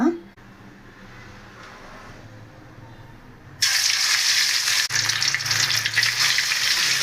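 Hot oil for frying fish starts hissing loudly partway through, a bright rushing sizzle that jumps up abruptly after a quieter stretch of low room noise.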